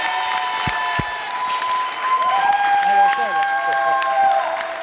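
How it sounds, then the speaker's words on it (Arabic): Studio audience applause for a chef guest on a Tunisian Sunday TV show, a steady wash of clapping with cheering, sustained music tones running underneath throughout. "يلا اعطيوني أقوى تصفيق على الشيف"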